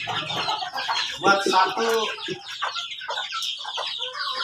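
Free-range village chickens cluck repeatedly at feeding time, with overlapping bird calls close by and a person speaking briefly over them.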